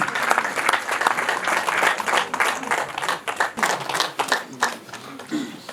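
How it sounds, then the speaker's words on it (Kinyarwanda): Wedding guests clap for the bride and groom, a dense, steady burst of applause from a nearby crowd that carries on without a break for about six seconds. "Gake gake amashyi menshi cyane y'umukwe n'umugeni."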